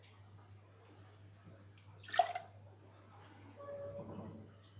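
Apple juice is poured into a glass while a non-alcoholic cocktail is made, a short splashing stream near the middle, quiet and close, followed by lighter trickling with a faint hum underneath.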